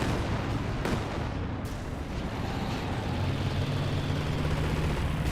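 Artillery barrage in the strategy game Company of Heroes 2, a dense continuous roar of shell impacts and rumbling booms with a couple of sharper blasts, steady and loud throughout with no voices.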